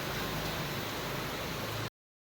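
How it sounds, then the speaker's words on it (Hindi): Heavy rain falls hard in a steady, dense hiss that stays level for about two seconds and then cuts off abruptly. "देखो कितनी बारिश हो रही है ज़ोरों से।"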